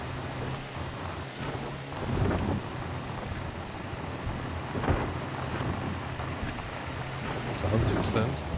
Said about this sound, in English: There's only one thing better than the sound of rain